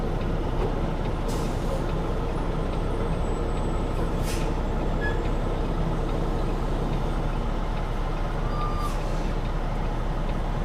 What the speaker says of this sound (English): Once I hear his brakes set, I know he's good.